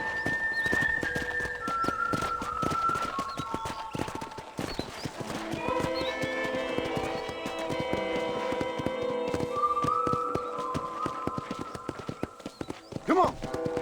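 Horse hooves clip-clop steadily through a ranch setting in the video game Red Dead Redemption, the rhythmic hoofbeats sitting under a voice and game music, with a brief louder clatter near the end.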